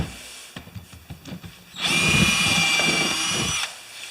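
Power drill boring a slightly larger hole through wood while a carpenter's vise is being installed: a few faint knocks and handling sounds, then a loud, close, steady whine for about two seconds before it stops.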